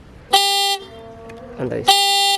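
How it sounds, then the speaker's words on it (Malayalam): Two short, loud electronic horn beeps from a homemade electric Vespa scooter, separated by a pause with faint background noise and a brief murmur. "ഹോൺ അടിച്ചു കഴിഞ്ഞാൽ അടിപൊളിയായിട്ട് ഹോൺ കേൾക്കും"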